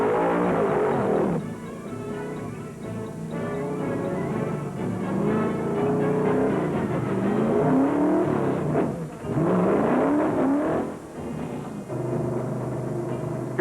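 A 1971 NASCAR Late Model Sportsman stock car on track at Ontario Motor Speedway, engine roaring and shifting pitch as it accelerates, loud and continuous with brief dips.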